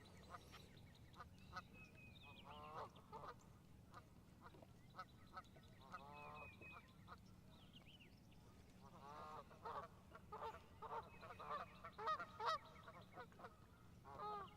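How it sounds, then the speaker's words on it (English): Geese honk repeatedly on Lake Guntersville, a series of nasal calls in irregular bursts, some overlapping, at moderate distance over a low, quiet outdoor background. "These geese are breaking up the silence."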